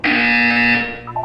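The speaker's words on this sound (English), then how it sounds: "You will hear a buzzer." A steady electronic buzzer from the Portal 2 video game sounds continuously for about a second, loud and harmonic-rich, then fades into a few softer tonal blips.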